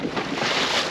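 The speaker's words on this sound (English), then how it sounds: "she's a little windy" Wind gusts steadily across a microphone on a small fishing boat drifting for bream, a close, continuous rushing roar.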